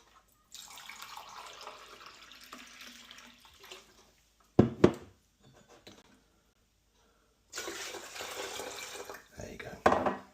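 Cold tap water runs into an electric kettle in a camper van in two separate bursts, with short clunks and pauses between them.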